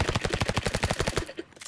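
Rapid automatic gunfire from the video game Rivals rattles out as a fast, even burst of close shots that stops after about a second.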